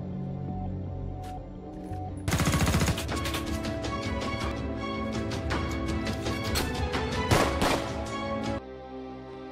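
Gunfire rings out during soldiers' shooting training in an action film. A rapid burst of sharp shots is followed by scattered single reports over a musical score.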